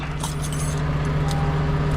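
Car keys jangle in a few quick metallic clinks over a steady low hum from inside a car with a dead battery.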